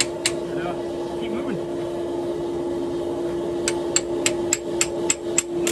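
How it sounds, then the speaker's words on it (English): Hammer strikes forge weld a toothed steel face onto a wrought iron hammer body, a few sharp blows early and then a quicker run of ringing hits near the end over a steady machine hum from the forge. "Forge weld those babies together."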